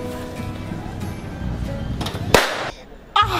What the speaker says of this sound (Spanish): tratando de encender un cohete